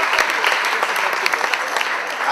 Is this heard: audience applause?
yes